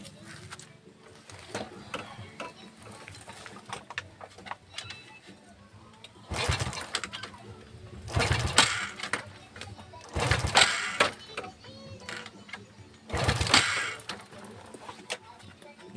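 A SYM 100 motorcycle engine, fresh from a timing chain replacement, fires up in several loud revving bursts over a quieter idle, with people talking at times.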